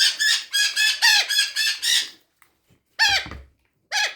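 Chickens squabble loudly up close in a burst of harsh, overlapping squawks and screeches, then fall briefly silent before two more short squawking outbursts.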